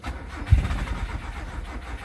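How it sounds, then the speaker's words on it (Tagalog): A 1995 Nissan Sentra engine cranks without catching because of no fuel pressure, giving a low, steady mechanical rumble with one brief thump near the start and no clear firing. "So ngayon i-start natin kung talagang hindi pa nag-i-start."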